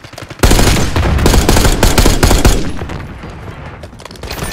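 Rapid automatic gunfire in Call of Duty: Black Ops 6, a loud, dense burst of shots that runs for a few seconds and then thins into scattered reports and rumbling echoes.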